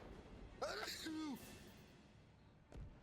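A single close sneeze bursts out with a sharp intake and a forceful release, followed by a brief breathy sigh and a short sniff. The background is otherwise quiet, with no talking.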